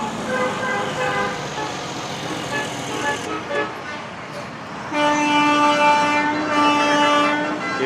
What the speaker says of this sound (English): You are witnessing the Make-A-Wish truck convoy.